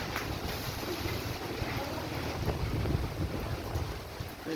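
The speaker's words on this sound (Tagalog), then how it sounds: "Lakas ng hangin" Strong typhoon wind in Ilocos Sur roars steadily and buffets the microphone with a dense, unbroken rumble and hiss that stays loud throughout.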